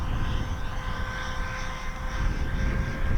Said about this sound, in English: Bring it into the wind and I'm belly landing it.